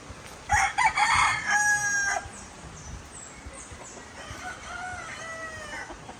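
A rooster crows loudly nearby, then a second, fainter crow follows, with scattered clucking and outdoor noise around them.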